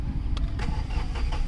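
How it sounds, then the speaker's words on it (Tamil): A Hyundai Verna diesel car with injector circuit fault codes and a lit check-engine light starts up: a brief crank burst, then the engine catching into a low, uneven rumble close by, with no talk. "இப்போ வாங்க வண்டி ஸ்டார்ட் பண்ணி பார்க்கலாம்"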